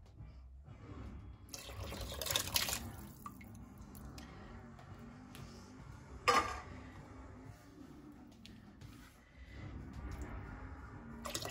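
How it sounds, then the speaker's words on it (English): Canned chicken is poured into a pot of broth in a kitchen. Quiet wet splashing and dripping come in a few bursts, and a brief clatter interrupts partway through. "Now I'm going to pour in the 2 cans of chicken."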